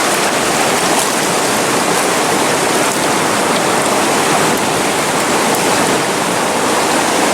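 A river below a dam rushes loudly and steadily, a dense, unbroken roar of churning water heard close up with no pauses.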